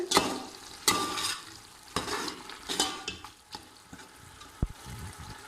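Keema in a pan is stirred with red chilli and turmeric powder for a kachnar keema dish, producing irregular close scrapes and clinks over a steady soft frying sizzle, with no one talking.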